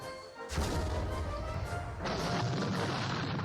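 Booming artillery fire in the John Tiller Napoleonic Series game, Battle of Talavera: a loud blast at about half a second, then a second heavy report about two seconds later, both rolling on without any speech.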